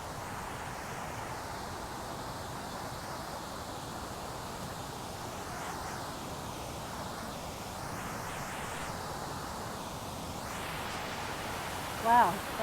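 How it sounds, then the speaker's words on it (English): Below a dam on the Appalachian Trail, a waterfall's big cascade gives a constant rushing hiss from a moderate distance. It runs evenly throughout, with a brief small knock near the end. "Here's another vantage point of the falls. You can see the dam up there. And then here's that big cascade that we saw."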